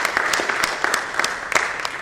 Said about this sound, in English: let's give him a big round of applause for being here